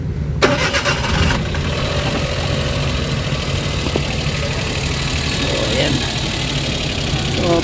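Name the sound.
Suzuki Wagon car engine starting and idling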